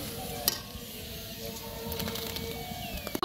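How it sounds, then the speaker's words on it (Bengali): Fuchka puris frying in hot oil, giving a soft, steady sizzle with faint crackles and a few sharp ticks, heard at a low level with no talking. "ফুচকাগুলো ভাজা হয়ে গেছে"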